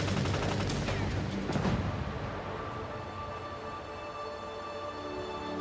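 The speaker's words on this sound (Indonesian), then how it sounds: "Dia bisa mendengar suara tembakan" Gunfire in a World War II war film set in Normandy, with a dense burst of shots and impacts in the first two seconds that gives way to a steady, loud rumbling battle ambience.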